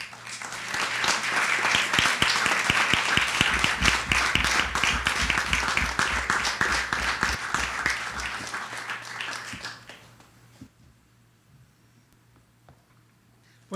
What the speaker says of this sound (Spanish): Recibámoslo con un fuertísimo aplauso.